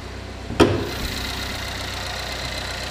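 The 2.4 liter engine of a 2015 Chevy Equinox idles in a steady, moderately quiet hum, with a single sharp thump or click near the start and the running continuing evenly after.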